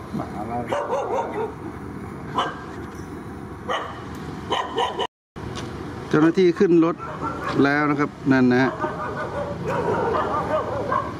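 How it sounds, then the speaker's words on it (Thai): A dog barks in short repeated bursts at moderate distance near a railway junction with freight trains, while someone talks over it and traffic noise hums in the background. "ที่ถ่ายหมาเห่าอยู่นะฮะ"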